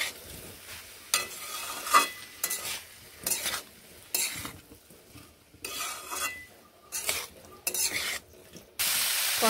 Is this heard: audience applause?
no